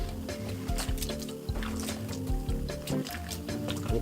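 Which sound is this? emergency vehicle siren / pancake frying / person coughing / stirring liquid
stirring liquid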